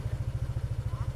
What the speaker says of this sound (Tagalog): May dalawang habal-habal dito ng mga rider mga sangkay.